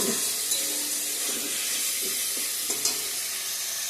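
Paneer curry with potatoes and pointed gourd sizzles steadily in a pan, a constant frying hiss broken by a few soft scrapes as it is stirred.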